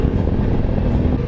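A BMW F850 GS motorcycle engine idles close by, a steady low rumbling throb with no talking.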